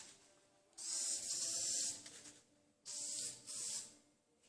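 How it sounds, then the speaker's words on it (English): Two bursts of aerosol spray, the second briefly interrupted, as 5907 adhesion promoter is misted from a can onto body kit repair spots on a 1989 BMW E30 M-Tech II, close and clear with quiet pauses between. "spray some of this 5907 adhesion promoter on, getting ready for the repair compound."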